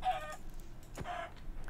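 Chickens cluck in Minecraft with the All the Mods 4 modpack, two short clucking bursts with a sharp click between them over a steady low background hum, no voices.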